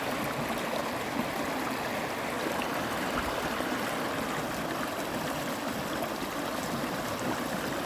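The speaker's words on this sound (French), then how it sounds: "Une chute d'eau. Avec des fleurs et tout." A small waterfall beside the Canal du Berry pours in a steady, unbroken rush of falling water, with a dense splashing hiss that holds constant throughout, near and fairly loud, with no voices.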